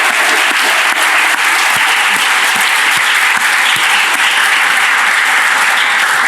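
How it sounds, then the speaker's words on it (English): Loud, sustained applause from an audience after a Constitution Day debate on the constitutionality of the 2024 Title IX regulations, a dense close wall of clapping continuing throughout with no voices. "I want you to give another round of applause to both speakers for what they've done."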